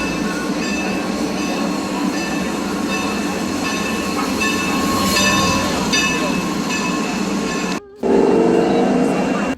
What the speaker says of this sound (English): a great steam locomotive riding the rails of America